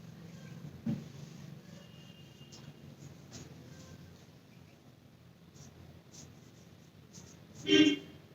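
Faint, scratchy strokes of writing on a board during a Hindi grammar lesson in a Class X classroom, with short intermittent marks over quiet room tone and one louder scrape near the end.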